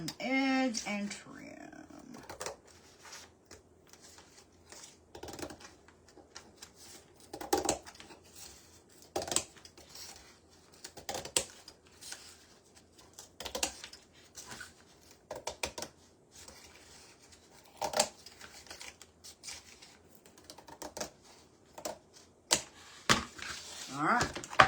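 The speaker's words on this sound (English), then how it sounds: "I'm just going to go down the edge and trim." A blade works slowly along the edge of a cardboard monthly calendar, trimming it with scattered crisp clicks and scraping cuts at an irregular pace, fairly quiet and close.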